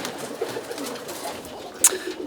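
Roller pigeons coo softly in a loft, a low murmuring call with a brief sharp chirp near the end, moderately distant and faint against a quiet background.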